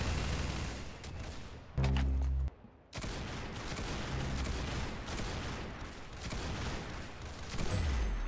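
Dense, continuous gunfire in the Roblox shooter Arsenal, rapid overlapping shots with loud booming bursts and a brief low thump, sustained throughout with no voices.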